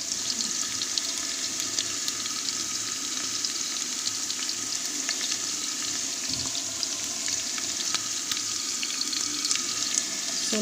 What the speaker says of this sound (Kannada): ಚೆನ್ನಾಗಿ ಹಸಿ ವಾಸನೆ ಹೋಗೋವರೆಗೂ ಫ್ರೈ ಮಾಡ್ಕೋಬೇಕು